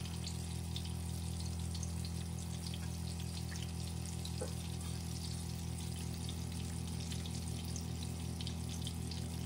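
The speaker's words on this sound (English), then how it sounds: "Wash my hands." A kitchen tap runs steadily into a sink while hands are washed, a constant close rush of water with a faint mechanical hum and no talk.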